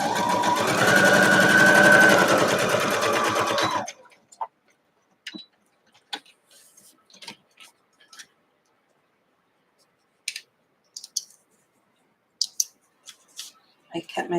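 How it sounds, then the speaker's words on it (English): A sewing machine stitches a quilt block in a close, fast, continuous burst for about four seconds. Sparse small clicks and taps follow, with quiet gaps between them. "you're going to sew the line between 1 and 2"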